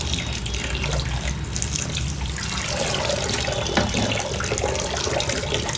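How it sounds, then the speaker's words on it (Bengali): Jute leaves are rinsed under a running kitchen tap, a loud, continuous splash of water with slight shifts as the leaves are handled, no talking. "পাটশাকটাকে আমি ভালো করে ধুয়ে নেব পরিষ্কার পাটশাকটা"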